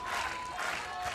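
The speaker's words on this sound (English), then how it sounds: "The crowd loving it." Beach volleyball crowd applauding and cheering, a continuous wash of clapping and crowd noise with a faint voice under it.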